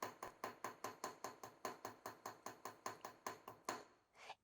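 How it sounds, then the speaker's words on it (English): A hammer strikes metal jewelry stock again and again in a fast, steady rhythm, about a dozen sharp ringing blows close by, held at the end of the handle for heavier blows, ending with a final scrape. "If you hold the hammer at the end of the handle, basically you can get heavier blows"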